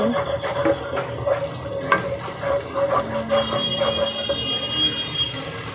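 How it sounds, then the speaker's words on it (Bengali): Spice masala is cooked down in a pan before rice goes in for a gobindobhog pulao: low sizzling under repeated stirring scrapes, with a steady tonal hum and a high whine in the background. "এবার ভালোভাবে কষিয়ে নেব যতক্ষণ না কষবে আমি চালগুলো ছাড়বো না"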